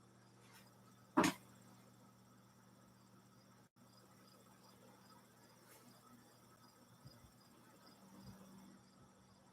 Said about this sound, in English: some very aggressive insects making noises outside my window